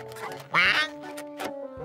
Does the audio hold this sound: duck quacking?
yes